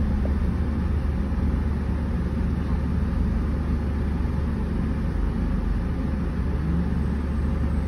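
A motorcycle engine rumbles steadily and continuously, a low droning hum with no break and no voices.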